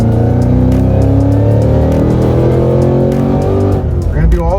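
A Cadillac CT5-V Blackwing running a base tune and flex fuel, said to make around 1,060 rear-wheel horsepower, accelerates hard with a loud, steadily climbing engine note that breaks off near the end, with talk underneath.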